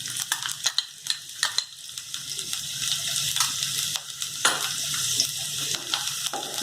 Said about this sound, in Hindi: ये जब गर्म हो जाए तब हम लोग इसमें 1 टेबलस्पून गार्लिक और चिली का हमने इसको बहुत फाइन इसको कट